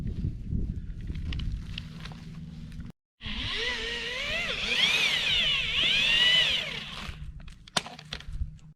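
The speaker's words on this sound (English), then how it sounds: "I'm going to drill the hole" A heavy-duty 3/8 horsepower power drill bores a hole at a greenhouse build site, a whining drone of several seconds that rises and wavers under load, with rustling and handling noise before and after.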